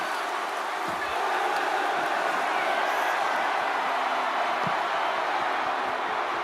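Dense, steady roar of a wrestling arena audience in WWE 2K25 during a Money in the Bank match, a loud unbroken wash of cheering with a couple of faint thumps underneath.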